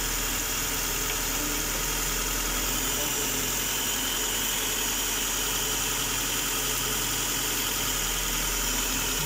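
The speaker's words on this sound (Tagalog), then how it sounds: "Tapos pakikiramdaman natin yung andar ng makina." A small engine idles steadily after its fuel-air mixture screw is set half open, a constant droning hum with faint knocking vibration throughout, close and unbroken.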